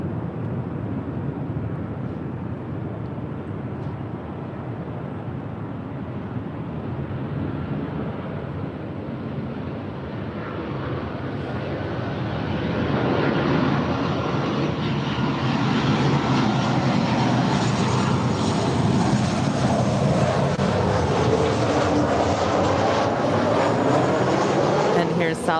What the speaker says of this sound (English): Southwest Airlines 3155 coming in from San Francisco. It is a 737-700.